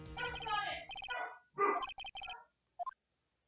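Several dogs barking in short sharp bursts, a cluster of yips and barks close by, then a pair of quick faint yaps after a pause.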